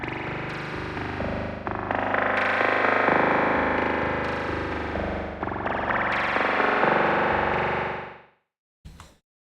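A dense, distorted synth texture runs through the spring algorithm of the RV7000 Reverb in Reason, its chords swelling and shifting before cutting off, followed by a brief metallic spring burst.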